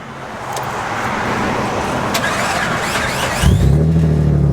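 Steady road and traffic noise fills most of the stretch before a Jeep Wrangler with a 4.0L engine and custom exhaust fires up near the end, settling into a deep, loud, close idle.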